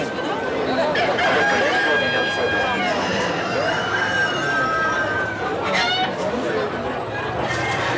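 A three-year-old rooster crows repeatedly at a busy outdoor poultry fair, loud and close, with the crowd chattering and voices talking throughout.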